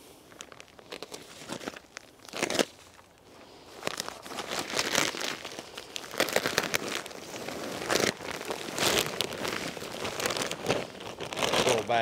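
A heavy bag of plant nursery material is cut and torn open, giving a long, steady rush of crinkling and ripping plastic with sharp tearing bursts, close by and with no talking.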